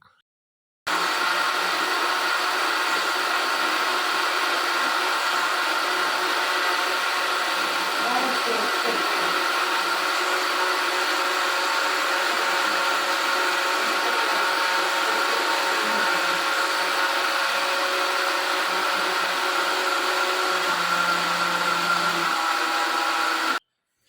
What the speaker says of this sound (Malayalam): അപ്പോൾ ഞാൻ വേഗം അരിയൊക്കെ അരച്ച് വെക്കുക